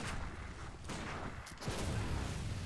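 Gunfire in the Bloodborne video game, a quick fusillade of sharp shots and booms over a busy, faint background of combat noise, with no talking.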